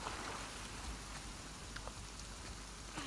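Steady rain falls in The Last of Us Part II, a constant hiss of drops on surfaces with a few brief brighter spatters, no voices.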